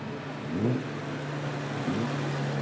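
Jaguar Mark II saloon cars, including a 3.8 litre 1963 model, driving past in a parade at Blenheim Palace, their engines a moderate, steady rumble with two gentle swells as they pass.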